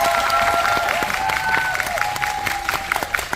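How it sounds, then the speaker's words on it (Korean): Audience applause at a Korean film screening Q&A event, a steady wash of clapping from a crowd with a little talk mixed in, fading slightly toward the end. "네, 이제 박수 치세요."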